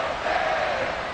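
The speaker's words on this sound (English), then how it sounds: "this crowd is making an impact right now" A stadium crowd in the Madden 24 football game roars steadily as a broad, even wash of cheering noise, holding at a constant level for the whole moment with no clear voices on top.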